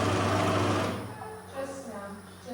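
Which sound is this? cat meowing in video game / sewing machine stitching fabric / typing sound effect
sewing machine stitching fabric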